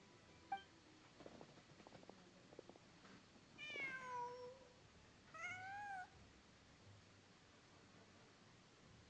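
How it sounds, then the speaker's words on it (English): Two clear cat meows sound in the video game Genshin Impact, each a rising then falling cry about a second long, spaced apart over a quiet ambient game background with faint soft footsteps. "Just a cat."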